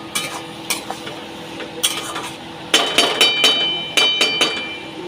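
A spoon scrapes and clinks in a pan as potatoes are stirred and pressed while sautéing with bhetki fish bones, giving repeated bursts of metallic scraping over a faint sizzle, close and without talk.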